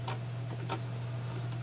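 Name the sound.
Logitech MX Master mouse wheel scrolling and clicking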